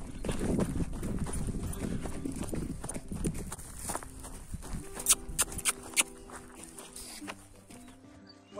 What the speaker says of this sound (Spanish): Dos burros. Uno y dos.